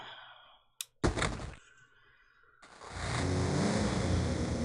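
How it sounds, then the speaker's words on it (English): A motorcycle in a garage in the Silent Hill Play Novel video game: a sharp thunk and a brief burst, then a pause before the engine starts and revs into a loud, steady roar. "Cybil straddles the motorcycle in the garage, inserts the key, and revs the engine."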